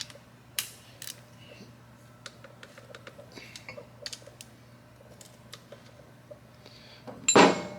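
Close metallic clicks and taps come from tools tightening bolts on a 143 cubic inch Harley Davidson Milwaukee 8 engine during assembly, with sparse ticks and a louder clatter at the end.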